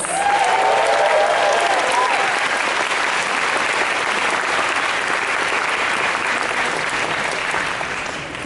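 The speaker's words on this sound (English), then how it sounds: "Let's give him a round of applause" Sustained audience applause at a Dragon Con 2017 Doctor Who panel, a large convention crowd clapping steadily for the panel moderator, with some cheering and whoops early on before tapering slightly near the end.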